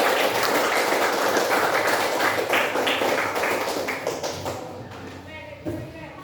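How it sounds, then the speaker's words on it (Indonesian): Classroom applause from a group of students after a poetry-writing lesson, dense steady clapping that fades toward the end, with some voices mixed in. "Kasih tepuk tangan untuk kita semua."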